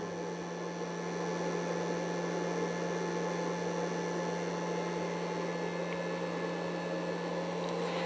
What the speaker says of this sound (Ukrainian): Зараз запустилася система обдуву інвертора.